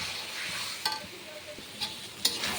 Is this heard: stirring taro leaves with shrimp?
yes